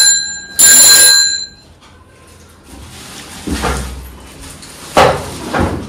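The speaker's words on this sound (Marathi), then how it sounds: "हा घंटी पण आहे ना." A new child's bicycle bell rings once in a bright, metallic burst lasting about half a second, followed by quieter handling clatter and rustling nearby.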